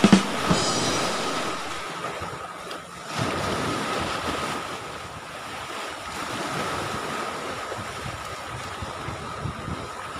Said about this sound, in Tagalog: Inaabot tayo ng alon dito.